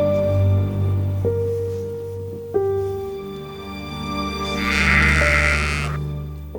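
A lamb bleats in long, wavering, nasal calls, several drawn-out cries in a row, loud and close with no other sounds around them.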